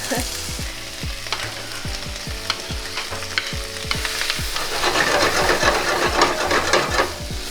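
Onions sizzling in melted butter in a pan, a loud, steady frying hiss with clinking utensil strokes and a low rhythmic mechanical hum underneath, rising slightly in the second half.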